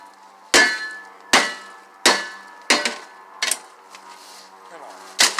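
A microwave oven being smashed and beaten, six loud, sharp metallic impacts at irregular intervals of roughly a second, each ringing briefly, heard close up and alone.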